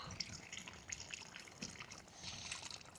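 Water trickles and drips as a container fills during a kids' polymer leak-test experiment, a soft, close, uneven patter with small splashes throughout, no voices present.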